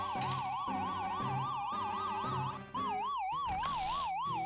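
Police-style siren from an enemy in the Paper Mario video game, a loud wailing tone sweeping up and down over game music, with a brief dropout near the middle before the siren resumes.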